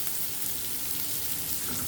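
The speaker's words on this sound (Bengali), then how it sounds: "মাছগুলো খুব ভালোভাবে কষিয়ে নিতে হবে, ভাজা ভাজা করে নিতে হবে।" Shrimp frying in oil in a pan, giving a dense, steady, close hiss of sizzling with no breaks or voices across the brief stretch.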